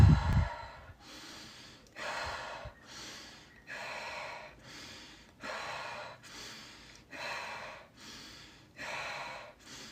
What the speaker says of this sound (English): Inhale and exhale quick.